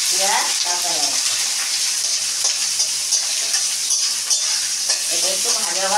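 Onion and green chillies with black cumin seeds sputter steadily in hot oil while being stirred, close and loud, with brief bits of speech at the beginning and end.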